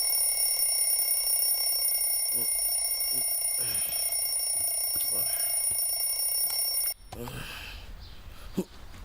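An alarm clock rings with a steady, shrill electronic tone that holds for several seconds and then cuts off abruptly. Afterward come a few soft, close sounds that may be breathing or movement.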